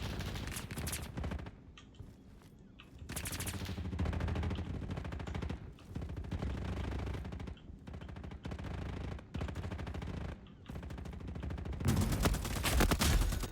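Gunfire in a Roblox war-zone shooter game: dense, loud, sustained automatic bursts and rapid shots with brief pauses, continuing almost throughout, with faint game sounds in the gaps.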